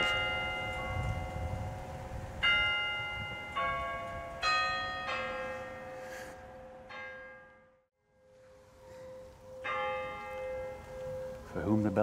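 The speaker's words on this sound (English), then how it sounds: "Nice church bells." Church bells ring near a graveyard in a series of resonant strikes roughly a second apart, each leaving a lingering metallic hum, with a brief lull before the peals resume.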